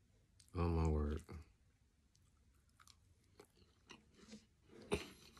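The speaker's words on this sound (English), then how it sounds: "Do you hear that crunch?" Close crunching bites and chewing of battered food, a series of crisp crackles and clicks, with a brief burst of vocal sound near the start.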